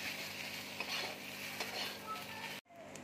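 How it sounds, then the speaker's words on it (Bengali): Grated potato frying in a pan, giving a steady, close sizzle with faint stirring scrapes that cuts off abruptly near the end. "এবার আলুটা দিয়ে আমি কিছুক্ষণ ভেজে নেব।"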